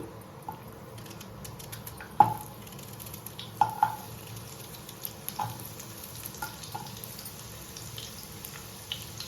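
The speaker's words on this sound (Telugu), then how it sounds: "నూనెలో ఇక్కడ అర్ధం ఉల్లిగడ్డ ఉంది కదా, ఈ అర్ధం ఉల్లిగడ్డను కట్ చేసి వేస్తాము" Cut onion half frying in about a spoon of oil, with a low steady sizzle under scattered utensil clinks and scrapes, plus a few brighter metallic taps.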